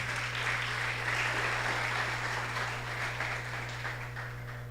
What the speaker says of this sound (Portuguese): Pode aplaudir, graças a Deus.